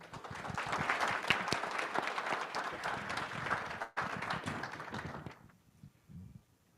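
A meeting audience in Muskegon applauds to welcome a speaker, steady clapping of a modest crowd that holds for several seconds, breaks briefly, then fades into a few scattered claps.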